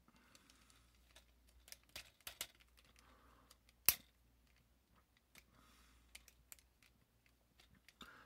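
Plastic parts of a Megatron action figure being folded and snapped into place: sparse, quiet clicks and ratchety taps at close range, with one sharp louder snap partway through, all against near silence.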